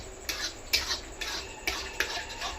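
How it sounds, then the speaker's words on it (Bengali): Pulao rice being stirred in a kadai with a spoon, several scraping strokes at a steady rhythm, close and clear over a faint sizzle. "পোলাও তোমরা নাড়াবে সুন্দরভাবে"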